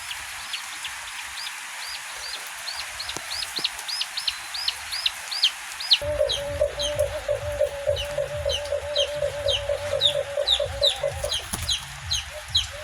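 Limokon chicks in a breeding cage peep in quick, repeated high chirps close by, and a steady droning tone joins partway through while the peeping continues.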